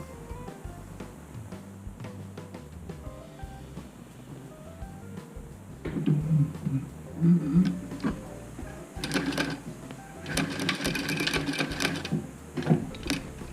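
A sewing machine stitches bias binding onto a face mask, quiet mechanical ticking at first, then loud rapid whirring bursts of stitching in several spurts, close by with no talk.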